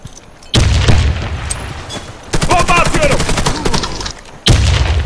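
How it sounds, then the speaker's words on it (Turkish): Loud booming explosions and rapid gunfire from a video game, heavy blasts cutting in and out in bursts with a stretch of rattling automatic fire between them. "Bomba atıyorum. Bomba!"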